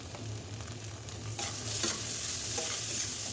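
Salt, turmeric and other spices are stirred and fried in a pan, with a steady oily sizzle and soft scraping strokes of the stirring spoon close by.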